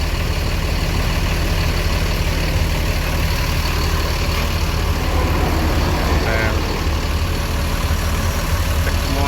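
A Rosalia Indah bus idles during a mechanic's inspection, its engine rumbling loud and constant throughout while voices talk nearby.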